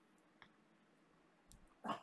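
A single faint dog bark rings out from a distance near the end of an otherwise very quiet indoor stretch.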